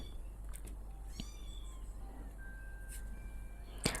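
A cat meows a few times close by in a quiet room, with brief soft calls standing out over low background hum.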